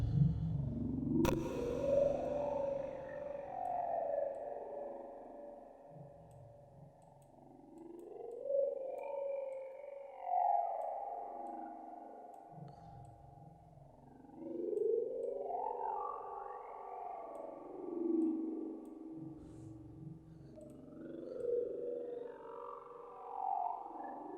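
Slow, sweeping Serum synthesizer tones through a formant filter after distortion, vowel-like and talking, rising and falling in long phrases over a low distorted drone, with no voices.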